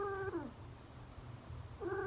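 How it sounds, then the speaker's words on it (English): A small kitten mewls in two thin, wavering cries, one at the start and one at the end, heard alone over a faint low background hum. "a small cat thrust its head out,"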